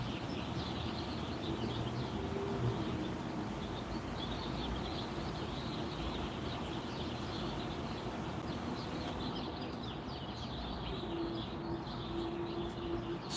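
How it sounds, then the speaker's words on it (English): Birds singing and cooing outdoors in a city setting, steady chirps and calls spread through the clip over constant traffic-like background noise, with no one talking. "Listen to those birds."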